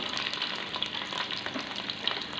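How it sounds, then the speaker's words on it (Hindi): Chopped onions frying in a cup of hot cooking oil for a potato and chicken curry, a steady close crackling sizzle with light stirring, quiet and continuous without any voices. "कुकिंग ऑयल 1 कप लेके उसको गर्म कर लिया। मैं प्याज शामिल कर रही हूँ।"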